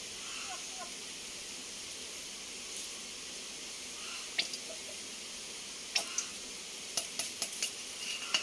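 Aloe vera gel being stirred into a homemade beard-growth mixture, giving a soft, steady wet scraping with a few sharper clicks of the spoon against the container toward the end.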